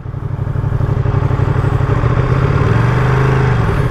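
A brand new 2023 limited edition Ducati Panigale V2 ridden on the road, its engine a loud close rumble that climbs steadily in pitch as it accelerates, a rough pulsing throb under constant wind noise.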